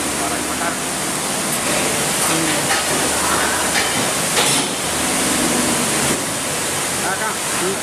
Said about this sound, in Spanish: Donde se lava la piña para el empaque.